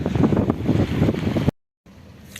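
Wind blows hard across the microphone at Lökbatan lake while fishing, a loud broadband rumble and buffeting that cuts out suddenly and then returns faintly.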